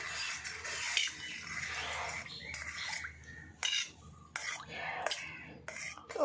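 Ice cream mixture stirred in a bowl, with soft scraping and clinking of a utensil against the bowl in irregular strokes, fairly quiet, with brief pauses between bursts.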